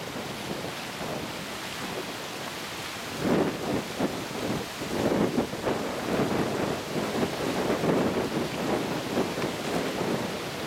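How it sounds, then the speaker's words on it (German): Large waves break on the reef at Le Morne, Mauritius, in about 20 knots of wind. A steady roaring wash swells into heavier surges, with constant wind noise and no voices. "Riesige hohe Welle am Riff."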